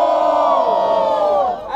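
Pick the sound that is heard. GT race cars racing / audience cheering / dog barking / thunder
audience cheering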